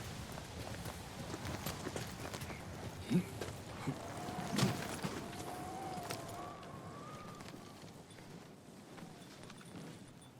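Horse hooves clip-clop at a steady walking pace in Ghost of Tsushima, moderately close and blended with ambient game sound and a few soft thumps, with no voices present.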